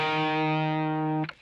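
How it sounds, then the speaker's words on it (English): A single sustained distorted electric guitar note from a solo rings loud and steady, then is cut off abruptly with a short pick scrape at the end. "Then we have a quick riff to end this first line of tabs."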